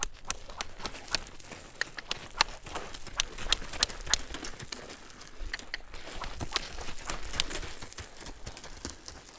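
A horse being worked for bucking moves around on the ground, its hooves thudding in an irregular, steady patter of close clip-clops with no talking.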